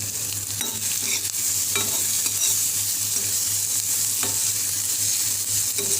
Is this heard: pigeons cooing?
no